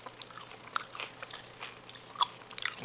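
Someone chews a sweet, green-apple-flavored candy that is hard on the outside with a chewy center, giving quiet, scattered crunches and bites close to the mouth.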